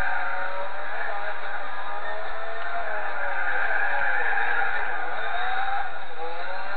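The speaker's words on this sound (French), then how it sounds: "Là, les roues, en fait, elles se bloquent, c'est pour ça qu'elles survirent." Nissan 350Z race car in Gran Turismo 4 with its tires locking and skidding under braking, a loud continuous screech with a gliding pitch over engine drone, no talking.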